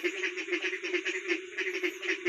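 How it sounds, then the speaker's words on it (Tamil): A steady chorus of frogs croaking in rapid, pulsing rhythm just after rain, fairly loud and continuous with no voices. "இதுதான் தவளையின் சத்தம்."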